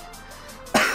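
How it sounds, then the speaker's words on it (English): A single short, harsh cough bursts out near the end of a Pokémon Omega Ruby and Alpha Sapphire demo episode, after a second of quiet background hum. "Excuse my coughing, I'm still pretty sick."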